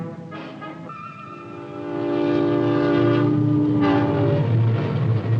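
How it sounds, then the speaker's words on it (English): A 1950s American night train from the city sounds its horn in a long sustained chord, swelling louder and steady as the rumble of the rolling train builds beneath it, with no voices. "It is the night train from the city."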